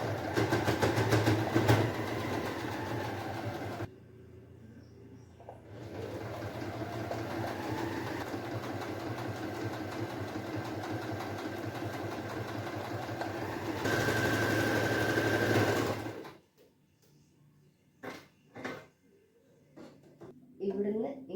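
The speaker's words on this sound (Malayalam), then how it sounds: "ഈ ഷേപ്പിനെ ആദ്യം നമ്മൾ ഒരു 1/4 ഇഞ്ചിൽ ഫുള്ളായിട്ട് മടക്കി അടിക്കും." A sewing machine stitching a quarter-inch folded shirt hem runs in long continuous bursts, steady and close, pausing briefly between passes before stopping, followed by a few scattered handling clicks and taps.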